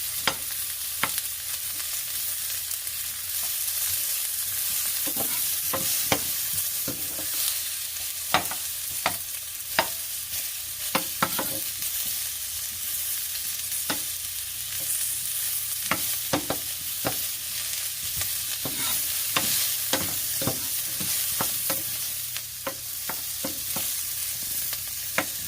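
Onions are stir-fried for a Korean vegetable dish, with clumps broken apart as they cook: a continuous bright sizzle runs throughout, punctuated by frequent sharp taps and scrapes of a utensil against the pan.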